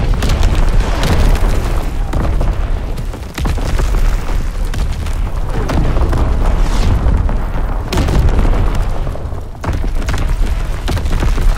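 Artillery strike in Call of Duty WWII team deathmatch, a dense, loud barrage of overlapping booming explosions and deep thuds rolling on continuously with brief dips between heavy impacts.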